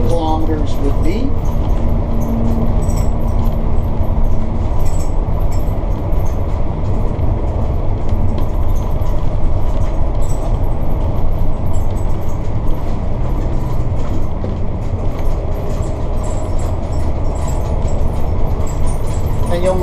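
Interior of a diesel coach travelling at 60 km/h, with a constant low engine drone and road rumble plus small rattles, and someone talking over it almost the whole time.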